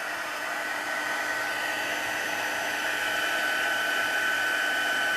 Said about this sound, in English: heat tool. And this gets pretty hot. And what this does is it melts the embossing powder.